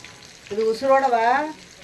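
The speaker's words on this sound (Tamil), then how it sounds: "நல்லா குழம்பு கொதிக்குது" Madurai-style fish curry, with green chillies, bubbles and sizzles steadily in a pot while a voice speaks briefly over the cooking noise.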